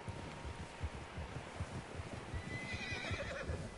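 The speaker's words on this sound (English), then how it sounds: "Horses, quite a few of them." Horses in Red Dead Redemption 2 whinny while hooves clip-clop steadily, with wind noise underneath and a higher whinny rising near the end.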